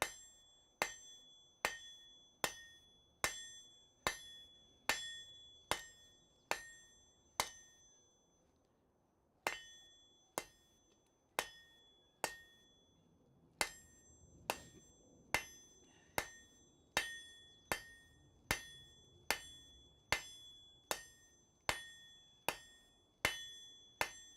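A blacksmith hammers metal in a smithy with steady, ringing strikes. The clanging blows come in long regular runs with one brief pause, each ringing out clearly and close, with no voices.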